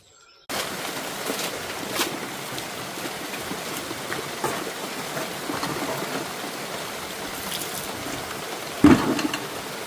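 Steady rain falls during a summer thunderstorm, a dense continuous hiss of drops with brief louder spatters and a faint bird call, no voices present throughout.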